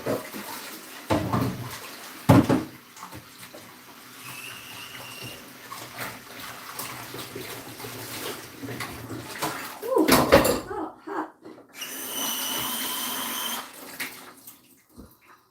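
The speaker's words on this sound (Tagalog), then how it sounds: "So I will wash my uh, chopping board and my knife first." Water runs from a tap while a chopping board and knife are rinsed in a kitchen sink, splashing and clattering in uneven bursts with a steady stream near the end.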